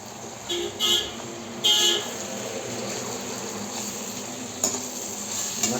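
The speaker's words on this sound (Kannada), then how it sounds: "ಇವಾಗ ತಿರುಗಿಸ್ಕೊಂಡು ಇವಾಗ ತುರ್ಕೊಂಡಿರೋ ಮಾವಿನಕಾಯಿ" Grated raw mango is stirred and tossed in a frying pan while making mango chitranna, with a continuous sizzle, a few louder scraping bursts near the start and a brief knock later.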